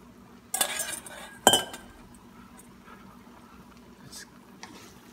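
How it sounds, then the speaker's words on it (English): Shrimp lo mein being stirred in a pan after the sauce goes in, with two sharp utensil clinks against the pan early on, then a quieter scraping and faint sizzle. "All right, and give it a stir again."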